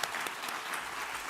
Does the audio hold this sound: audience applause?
yes